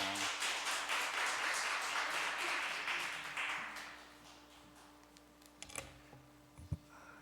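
Applause from a large church congregation during a Sunday afternoon service, loud at first then tapering off into scattered claps and a few clicks and knocks.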